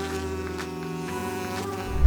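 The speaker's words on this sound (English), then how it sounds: "not swarms of giant bees." A dense, droning insect buzz holds steady and loud, like many large bees swarming close by, with a low thump at the very end.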